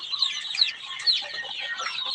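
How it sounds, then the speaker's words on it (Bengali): Dense, high-pitched peeping from a brood of about two hundred eleven-day-old native deshi chicks on a poultry farm. The chirps overlap in a steady, busy chatter, with a few sharper peeps standing out close by. "দুইশত বাচ্চা আছে এখানে অরিজিনালি দেশি মুরগির বাচ্চা"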